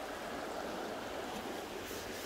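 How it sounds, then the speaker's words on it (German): A mighty brook flowing through marshland on a hike near Lake Neuchâtel, heard as a steady, close rushing of water that holds even and unbroken throughout, with no other sounds above it. "Da ist er jetzt schon zu einem mächtigen Bach geworden."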